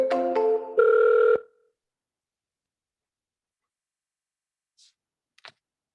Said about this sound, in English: Dialing right now.